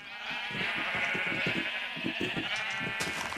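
Sheep in the Minecraft video game bleat in a run of short, wavering calls, close and fairly loud, with no talking over them.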